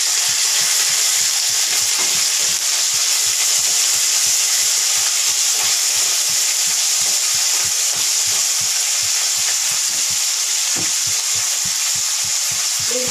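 Green chillies, carrot, onions and curry leaves sautéing in a pan, giving a loud, steady, close sizzle that runs the whole time, with a faint rhythmic low thumping underneath and no voices.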